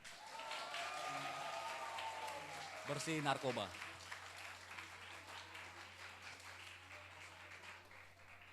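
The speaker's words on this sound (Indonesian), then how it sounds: "Yang tepuk tangannya kencang" An audience at an anti-drug workshop for students claps and cheers in a continuous wash of applause while people speak and chant loudly over it.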